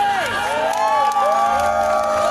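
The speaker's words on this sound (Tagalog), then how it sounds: "isang malakas na palakpak!" A live crowd at a stage show cheers and claps after an emcee's call for loud applause, with whoops and shouting over sustained, fairly loud clapping and tonal music or voices weaving through.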